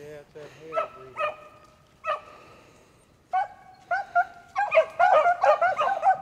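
Beagle hounds baying and yipping while trailing a rabbit on a hunt, scattered barks at first building into a dense overlapping chorus, fairly near, while someone talks at times.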